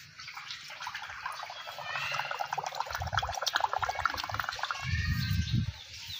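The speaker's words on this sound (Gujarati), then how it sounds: "હવે આપણે ભૂંગળી વડે પાણીમાં ગુડગુડિયા કરીશું." A child's activity of blowing through a thin tube, such as an empty ballpoint pen casing, into a container of water produces gurgling bubble bursts in two louder bouts over soft watery trickling.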